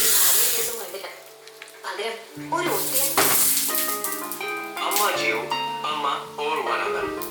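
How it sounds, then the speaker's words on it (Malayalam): An egg frying in a pan sizzles with crackling and stirring noises that rise and fall, while someone talks over it throughout. "അങ്ങനെ ഈ മുട്ടയും കൂടെ പൊരിച്ചു കഴിഞ്ഞിട്ടുണ്ടെങ്കിൽ"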